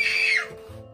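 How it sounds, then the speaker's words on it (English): A child screaming indoors at home: one loud, high-pitched shriek that fades quickly, followed by a low voice. "screaming like a crazy guy"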